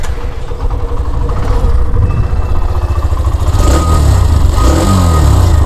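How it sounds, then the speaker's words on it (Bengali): A Hero Xtreme 125R, a 125cc motorcycle, running up close with a loud, continuous throbbing exhaust note that rises slightly in pitch toward the end as the throttle is blipped. "বাইকটা স্টার্ট করে তোমাদের এক্সস্ট সাউন্ডটাও শোনাচ্ছি।"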